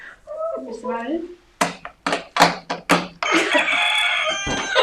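A person gives a loud, drawn-out imitation of a rooster crowing, a burst of clucking calls followed by a long, strained cock-a-doodle-doo.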